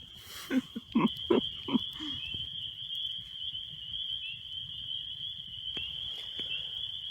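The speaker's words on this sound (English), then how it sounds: "The frogs are out, the woods are alive" Frogs croaking at night in the woods near a camping site at Bear Head Lake: a burst of several close, throaty croaks early on over a steady high insect trill that continues alone afterward, with a couple of faint clicks.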